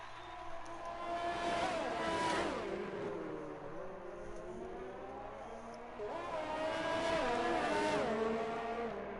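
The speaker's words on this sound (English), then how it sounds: "Big lockup from M. Doran again that time." F1 race car in a video game racing the Australian Grand Prix, its engine revving up and down through gear changes with a brief screech of locked tyres, moderately loud and steady over the whole stretch.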